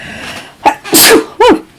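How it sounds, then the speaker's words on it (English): One person sneezes loudly and close by, a quick inhaled buildup then a sharp burst, followed by a second shorter sneeze. "And I'm going to sneeze, folks."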